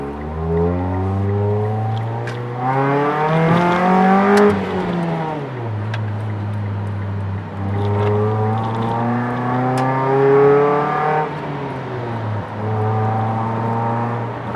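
A 2009 Mitsubishi Lancer engine revs up and down in long rising and falling sweeps, loud and close, its pitch climbing and straining under load before easing off, twice over.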